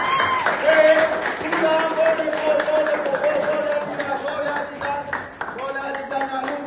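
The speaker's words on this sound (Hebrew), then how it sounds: "מחיאות כפיים לעידן" A crowd claps and cheers for Idan at his sixteenth birthday celebration and medal salute, steady applause running throughout under a voice speaking over it.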